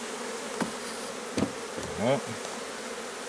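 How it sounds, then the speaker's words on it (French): Honeybees swarm over a frame from a Layens hive in a continuous close buzzing drone, with a few soft knocks and one brief spoken word. "J'enlève les abeilles de dessus."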